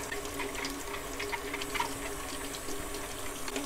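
Tap water runs steadily over an apple, a windfall from a backyard tree, being washed under a faucet, with a continuous close splashing hiss and no talk.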